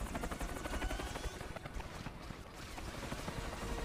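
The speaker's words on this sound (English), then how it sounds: "Destroy the Russian helicopter." A Russian helicopter in the James Bond From Russia with Love video game gives a steady rotor drone with rapid chopping pulses, joined by game gunfire, fairly loud and continuous with no talk.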